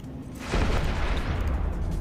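Explosions from missiles in the space game EVE Echoes, a deep rumbling boom that swells in about halfway through and holds as a dense, sustained roar.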